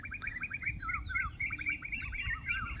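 An Asian koel and another small bird call together from trees on farmland, their rapid rising notes overlapping in a continuous back-and-forth chorus, clear and fairly close.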